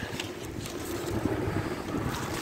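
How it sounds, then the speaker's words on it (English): Steady wind buffets the microphone with a low, continuous rush, loud and close, with no voices. "Jeez, it's windy out here today."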